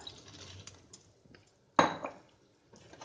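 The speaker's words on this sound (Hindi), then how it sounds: "अब इसमें हम डाल देंगे जिमीकंद जो हमने तल के रखा था।" Fried yam pieces tipped into a pan of melted jaggery and vinegar for a pickle, giving one sudden loud clattering splash and sizzle midway, with quieter pan clinks before and after and no talk.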